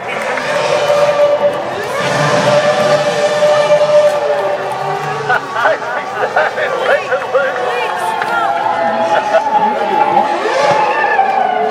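Casey Stoner's V8 Supercar does a burnout at the Top Gear Festival Sydney 2013, tyres squealing loudly and continuously over a revving engine, with a crowd cheering and a commentator talking throughout.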